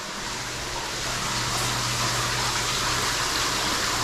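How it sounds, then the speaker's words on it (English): Water gushes steadily from a faucet into a bathtub in a newly built house, a loud, continuous rushing hiss that fills the whole stretch with no talk over it. "Starting to get some water in the tub."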